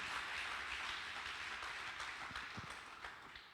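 A church congregation applauds in a dense, continuous wash of clapping that stays fairly quiet and distant, thinning slightly toward the end.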